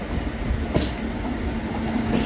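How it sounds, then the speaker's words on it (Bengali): The Saraighat Express rolling into Howrah station, a steady low rumble of carriages with faint wheel clatter and a brief higher squeal, continuous and moderately close throughout. "হাওড়ায় ঢুকছে one two three four six Saraighat express"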